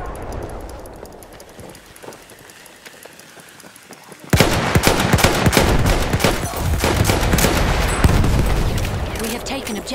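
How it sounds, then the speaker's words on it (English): Machine gun fire in the video game Battlefield 1, with rapid dense bursts that suddenly grow much louder and more intense partway through, mixed with booms and battle noise. "Enemy machine gun over there!"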